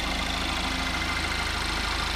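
A 2014 Cadillac CTS4 with a 2-liter turbo engine idles steadily under the open hood, a close, even, continuous hum with a faint low pulse and no voices.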